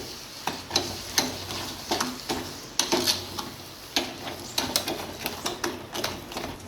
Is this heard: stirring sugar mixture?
yes